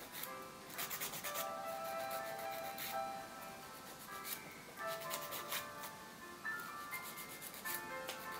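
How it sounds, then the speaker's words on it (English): Nails filed and shaped by hand during an SNS dip powder French manicure, with soft, rapid scratchy rasping strokes close by, faint beneath background music. "go back and shape the nails"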